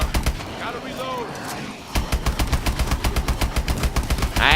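An MK14 rifle fires in Call of Duty Advanced Warfare, first as scattered shots, then a loud rapid run of evenly spaced rounds, while someone talks over the opening moments.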